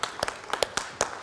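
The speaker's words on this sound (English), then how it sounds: "when do you stop clapping for the Lord?" A worship congregation claps for the Lord in a quick, steady run of sharp, fairly loud claps over about a second, with a faint murmur of voices behind.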